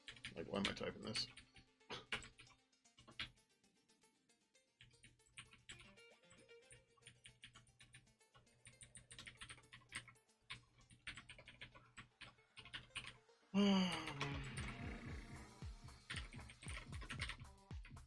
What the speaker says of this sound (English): Like, why am I typing this?